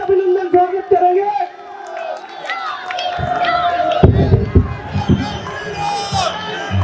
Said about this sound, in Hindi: जोरदार तालियों से अभिनंदन स्वागत करेंगे।